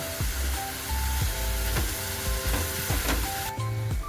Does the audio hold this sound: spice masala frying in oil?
yes